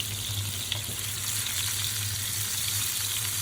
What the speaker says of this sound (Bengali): তেল গরম হওয়ার পরে একে একে মাছগুলো সাজিয়ে দিলাম ভাজার জন্য।